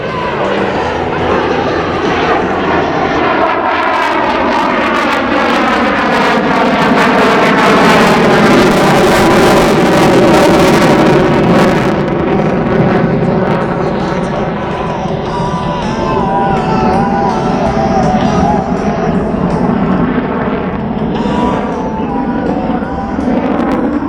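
A German Tornado jet roars loudly during an aerobatic demo, its engines surging through a combat acceleration into a steep climb. The close, powerful jet noise continues throughout with a shifting pitch, and faint crowd voices sit beneath it.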